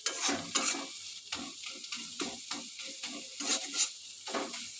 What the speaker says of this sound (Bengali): আমি এটা ভালো করে ঘাটা ঘাটা করবো